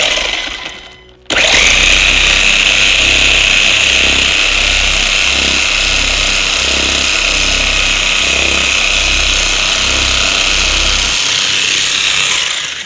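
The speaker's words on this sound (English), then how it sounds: "listen to the motor, how it just kicked in." An RC car's electric motor kicks in abruptly and runs at speed, a loud high-pitched whine with a pulsing low-frequency rhythm, holding steady close by for about ten seconds before easing off.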